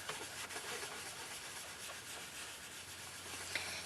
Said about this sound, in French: Je vais ensuite prendre ma petite éponge dédiée à mon encre Fruits des Bois et je vais faire la même chose en superposant mes couleurs